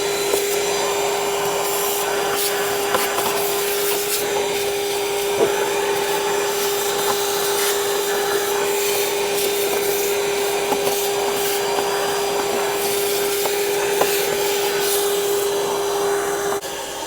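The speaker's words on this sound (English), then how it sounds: "I'm gonna go get my shop vac." A shop vac drones in a loud, steady whine for the whole stretch while sucking dirt out of the engine air filter housing of a Toyota Sequoia, with faint scraping and knocks of the nozzle and no speech.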